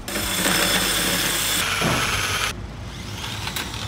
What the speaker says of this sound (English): We cut out some circles on the bandsaw